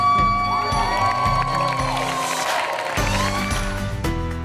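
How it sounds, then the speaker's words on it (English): Outdoor crowd noise at the grand opening of Dowdy Park, a public park in Nags Head, with children shouting and cheering under steady music-like tones, continuous and fairly loud throughout. "it's certainly great to hear the crowds and to hear the children laughing and playing"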